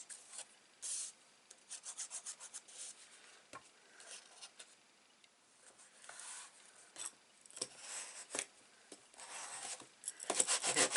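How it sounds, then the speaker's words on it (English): Paper card stock being burnished down onto glued layers of a handmade suit-themed greeting card, giving repeated dry rubbing strokes in short bursts with pauses, close and fairly quiet, with no talking. "Give it a good burnish"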